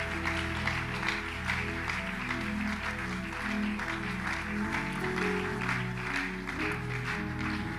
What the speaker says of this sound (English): Please, let's clap for them as they go to the counselor.